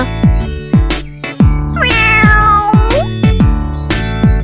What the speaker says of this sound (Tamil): அந்த இடத்துல அவ ஒரு அழகான பூனைக்குட்டிய பார்த்தா